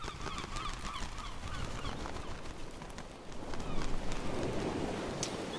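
Many birds honking like geese around a lakeside dock in the PSX-style lighthouse horror game Endless Days, a dense overlapping chorus with a steady wash of rain-like ambience, growing slightly louder near the end.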